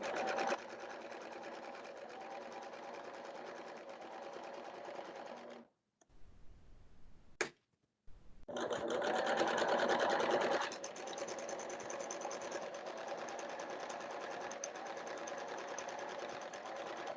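A sewing machine runs a simple closed seam, its steady motor whir and rapid needle stitching going continuously with one short pause partway through before resuming.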